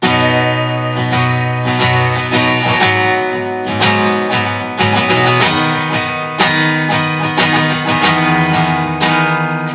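Electric guitar playing the haunting outro from a song, one chord with sustained upper notes while the root shifts, loud and full with rhythmic strummed attacks, no voice.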